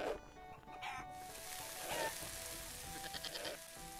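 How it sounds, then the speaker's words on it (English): Goats bleat in the video game Cora the Blade, faint, short cries recurring over a steady hiss and game background sounds, with no talk. "Look, there's some goats you can kill."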